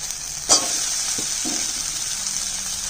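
Soft vegetable stalks go into spiced masala frying in a pan, with a brief splash as they drop in, followed by a steady close sizzle and hiss with a couple of faint stirring knocks.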